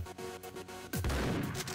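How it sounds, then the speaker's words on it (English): A shotgun in the top-down shooter Geneshift is fired point blank, a sudden loud blast about midway that cuts through rhythmic game music and rolls into a crackling burst, with no talking. "Firing a shotgun off point blank, they don't even care."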